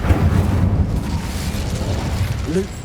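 Incendio, a fire spell cast in Hogwarts Legacy, lands as a loud low rumbling burst that carries on for a moment before fading, ending with a short tonal chirp.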